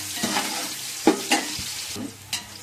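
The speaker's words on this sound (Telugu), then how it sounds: "ఇవి కొంచెం బంగారం రంగు వచ్చే వరకు కూడా మనం వేయించుకోవాలి" Two chopped onions frying in oil in a pan until golden for mutton dum biryani, a steady close sizzle broken by a few sharp scraping stirs of a spoon, with no talk.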